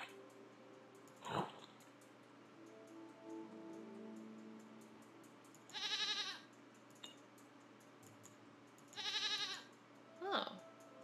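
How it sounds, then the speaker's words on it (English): Goat in the video game Rusty Lake Paradise bleats twice in loud wavering calls, separated by quiet game ambience, with a few short sharp sounds and brief tones in between. "What do we do about the goat?"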